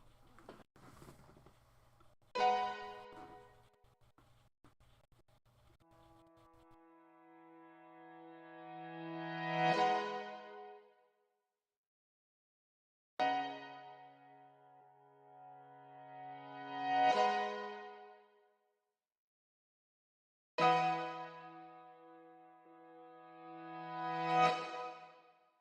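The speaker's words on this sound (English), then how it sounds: "I bounced the audio from the piano with all the reverb and then just chopped it up and reversed it in a few places" Piano chords drenched in reverb are chopped up and reversed, each one swelling backwards to a peak before cutting off, repeating three times with short silences between.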